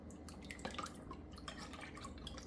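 Dye dripping off a blade into a water bath during a fade-dye job on an Artisan Cutlery Andromeda knife, a steady close patter of small drips and drops over a low background hum.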